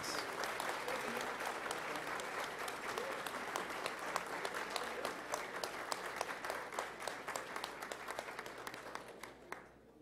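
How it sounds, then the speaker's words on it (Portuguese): A large audience at a formal award ceremony in the São Paulo state legislature gives a long, full round of applause, dense and even, tapering near the end, with a faint crowd murmur beneath. "saudemos o grupo com a mais fenomenal salva de palmas"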